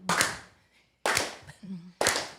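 Three sharp bursts of people clapping along during a sing-along at a remembrance event, about a second apart, each ringing out briefly, with a low voice murmuring between them.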